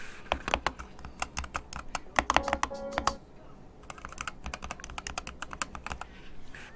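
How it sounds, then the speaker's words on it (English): Rapid clicky keystrokes from a SteelSeries Apex Pro TKL Wireless Gen 3 mechanical keyboard, close up, in quick bursts with a brief pause midway and no talking. "Just so you can hear the sound of this keyboard"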